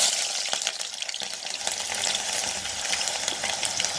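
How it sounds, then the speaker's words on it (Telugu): Chopped red onions hit hot oil for vegetable fried rice, giving a loud, steady, dense sizzle and crackle with a few sharper pops near the start, continuing without pause and with no talk. "ఆయిల్ వేడెక్కినాక కట్ చేసి పెట్టుకున్న ఎర్రగడ్డ వేసుకోవాలి."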